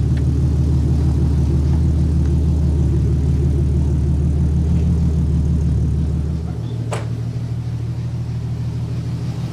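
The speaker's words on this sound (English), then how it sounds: "Ooh, a little rough idle." Lexus SC300 with a 2JZ engine idling roughly after an alternator swap, a steady low uneven rumble that drops in pitch and level near the end, with a brief click.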